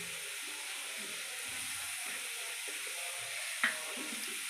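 Onions frying with salt in a pan give a steady, moderate sizzle, broken near the end by one short scrape or clink as they are stirred.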